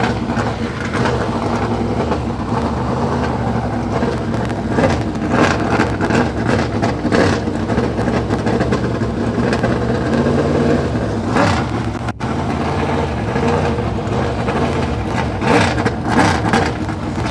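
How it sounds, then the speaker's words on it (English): Dirt late model race car engine idling after a prelim feature, a steady low rumble running continuously and fairly loud, with clattering noise around it. "Still has the engine running."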